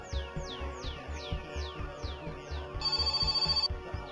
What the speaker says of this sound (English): Oh, the phone.